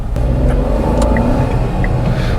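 Nissan Magnite XL Turbo car driving, with a steady low engine rumble and road noise heard from inside the cabin throughout, loud and continuous with no talk.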